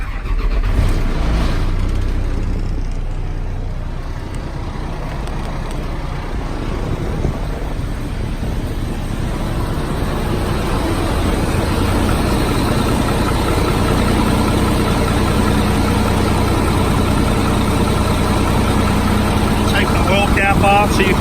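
Engine of a 2005 GMC bucket truck cranking and catching, then settling into a steady, continuous run close by with no talk over it.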